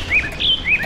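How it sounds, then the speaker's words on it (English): Birds chirping in the game Layers of Fear, several clear, loud, high tweets in a quick repeating pattern, close and alone with nothing else over them. "the sound of birds chirping."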